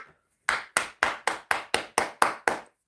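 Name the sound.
people clapping for a man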